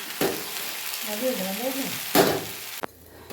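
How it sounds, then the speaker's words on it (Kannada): Okra frying in oil in a home kitchen for a night dinner, a steady close sizzle with a scrape of stirring or turning partway through and a sharp clatter near the end, with a brief voice or tonal sound in the middle. "ಕಡೆ ಬೆಂಡೆಕಾಯಿ ಫ್ರೈ ಆಗ್ತಿದೆ, ಅದರ ಸೌಂಡು"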